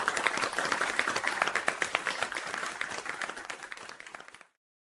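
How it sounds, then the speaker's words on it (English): Studio audience applause during a talk show book giveaway, dense sustained clapping from many people that tapers slightly before stopping abruptly. "All those people, Robert, are clapping for you"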